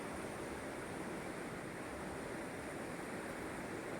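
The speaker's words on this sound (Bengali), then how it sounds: "আমি রায়ডাকের খুব কাছে দাঁড়িয়ে জলের গান শুনছি" Steady broadband rush of the Raidak river flowing close by in the Bhutan Ghat hills, a continuous even wash of water with no pauses and no voices.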